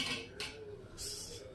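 A metal cooking pot is set on a gas stove for making jaggery syrup, giving a few faint metallic clanks and scrapes, with brief bright clinks spaced across the moment.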